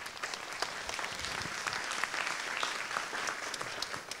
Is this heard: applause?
yes